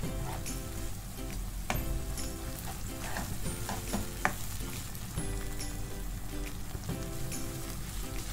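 Ginger garlic paste fries in hot oil with lightly browned onions, giving a steady close sizzle with soft stirring scrapes and crackles throughout.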